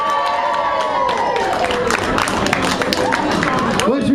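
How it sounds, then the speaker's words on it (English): Clapping and cheering from the audience at a small live gig at the end of a song, a dense steady wash of applause with whoops running for several seconds, with voices mixed in. "Do you want to clap the end of that one?"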